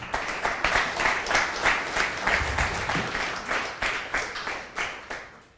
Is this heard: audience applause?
yes